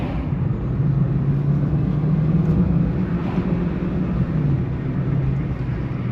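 Car with a newly replaced catalytic converter accelerating: a steady low engine drone and road rumble with a faint hum, moderately loud and continuous throughout, with no talking.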